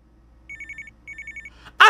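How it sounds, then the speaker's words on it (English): Telephone ringing in the horror video game Feed Me Billy: two bursts of trilling electronic rings close by, followed by a sudden loud noise at the end. "why the phone ringing?"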